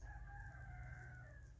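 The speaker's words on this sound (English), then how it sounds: "That's my neighbour's chicken crowing." A neighbour's rooster crows in one sustained call, faint and distant, over a low steady background rumble.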